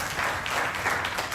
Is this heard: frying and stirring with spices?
no